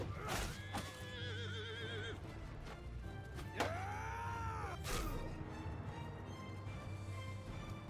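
Horses neigh in the medieval combat game Mount & Blade II: Bannerlord, with several loud whinnies rising and falling over a busy battle din of clanks and thuds, with no talk.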